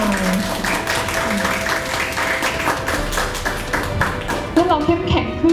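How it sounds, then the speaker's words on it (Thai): Audience applause for a young student at a talk on Buddhist ways of developing character: continuous clapping with a voice speaking over it. "ขอเสียงปรบมือให้น้องหน่อย"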